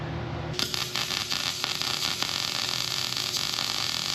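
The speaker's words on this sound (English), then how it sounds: "I hate overhead welding." Overhead welding on an offroad wrecker sets off suddenly after a brief pause, becoming a loud, steady sizzling hiss with a faint pulsing crackle that carries on to the end.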